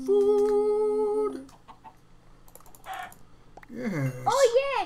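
Chickens cluck in the video game Minecraft, short, fairly quiet clucks between louder voices talking and electronic game tones.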